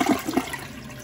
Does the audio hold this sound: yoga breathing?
no